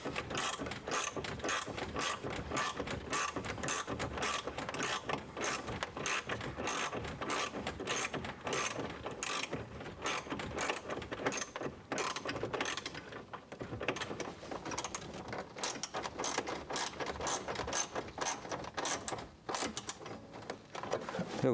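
A hand ratchet clicks rapidly and steadily for about twenty seconds as bolts are tightened inside a Datsun interior, a dense close-up run of pawl clicks with brief pauses and no talking.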